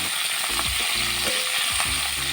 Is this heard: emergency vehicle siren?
no